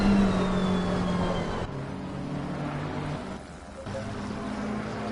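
McLaren race cars in a racing video game at top speed, a sustained engine drone with a high whine that cuts off abruptly, then lower, fluctuating engine noise.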